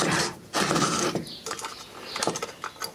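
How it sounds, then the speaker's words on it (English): Clicking ratchet wrench and metallic mechanism noises while working on a bottom bolt, in bursts of quick ratcheting with short pauses, close and without talk. "let's get this bottom bolt fixed."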